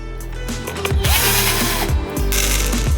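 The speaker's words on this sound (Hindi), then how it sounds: "हम क्लैंप को हटाएंगे, शिकंजे को हटाते हैं" Clamps being loosened and removed from a mould for a giant homemade Skittles candy, heard as close ratcheting clicks and metallic mechanical knocks in a rough, uneven rhythm.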